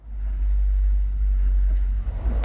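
Airship RIBs 330 inflatable boat with twin outboard motors cruising slowly at about six knots on a lagoon, a steady low engine drone close by, with no talk.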